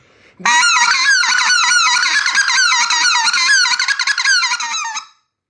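A goose call blows a loud run of rolling, honking notes, tied together with quick, sharp clucks in a fast rhythm before stopping abruptly.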